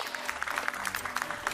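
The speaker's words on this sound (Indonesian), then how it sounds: "Tepuk tangannya boleh." Studio audience applauding on an Indonesian television broadcast set, a dense burst of hand claps running steadily through the whole moment at moderate loudness.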